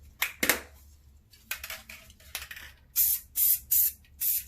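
Krylon plum spray paint hisses out of an aerosol can in short bursts, a few scattered sprays followed by four evenly spaced, close, sharp blasts near the end.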